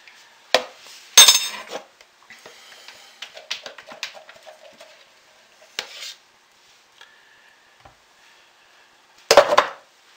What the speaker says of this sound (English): Scrape this out because I just want to get as much of this as I possibly can into the mold